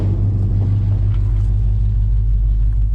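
A 1979 Chevrolet C10 Big 10 squarebody pickup drives along with a steady, loud low engine rumble and drone heard from inside the cab, the tone staying fairly even throughout.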